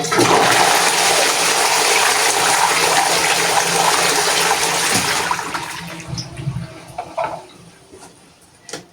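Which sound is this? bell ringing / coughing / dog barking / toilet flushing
toilet flushing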